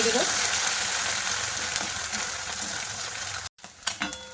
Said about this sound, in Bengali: শুধু আমি হলুদ গুঁড়ো দিয়েই এই মাছটা ভাজা করে নেব